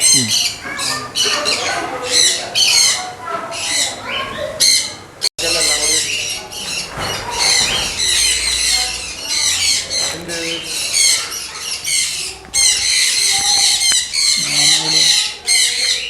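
Sun conure parrots squawk loudly and continuously at an animal house in Cherai, Kerala, a harsh, shrill chorus of overlapping screeches close by, with a few voices mixed in.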